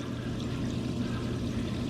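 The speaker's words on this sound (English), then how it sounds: "there is one of these brass clear stream jets, which supply water to the screen." Water spills from brass jets onto a stainless steel screen fountain, a steady pouring splash that is soft and continuous with no talk over it.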